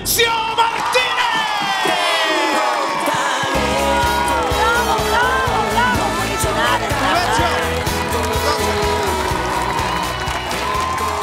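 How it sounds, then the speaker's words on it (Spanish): A talent show audience applauds and cheers as the season winner is announced, with loud sustained clapping, whoops and yells alongside music and a voice speaking over the crowd. "¡el aplauso para Juvencio Martínez!"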